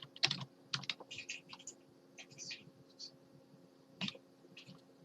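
Quick bursts of computer keyboard typing, with a dense cluster near the start and another short flurry around four seconds, close-miked and fairly quiet over a steady low hum.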